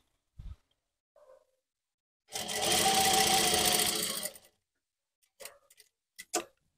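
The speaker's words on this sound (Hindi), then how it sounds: "यहाँ पे हम हल्का सा पक्का करते हुए चलेंगे और यहाँ पे इस तरीके से सिलाई लगाएंगे" A sewing machine stitches organza lace piping on a neckline in one loud, steady burst of about two seconds, followed by a few short, sharp clicks and taps.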